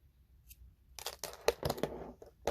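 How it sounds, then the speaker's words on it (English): Scissors snip off the end of crochet yarn: a few quick, close, crisp cuts and rustles of yarn after a short quiet pause. "you just take your scissors and you snip off the end"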